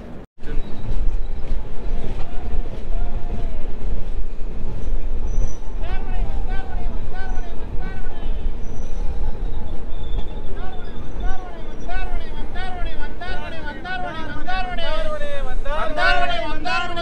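Tamralipta Express 12857 running on its tracks between Howrah and Digha, a steady loud rumble of wheels and carriages heard from inside, with layered clatter, squeals and people chattering throughout.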